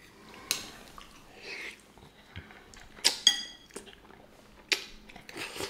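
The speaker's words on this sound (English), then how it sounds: "I hate when I hit the spoon against the plate or something, or a bowl" A spoon clinks against a plate or bowl while lasagna soup with ricotta is eaten, giving a few sharp, bright taps spread across a quiet background with faint handling noise.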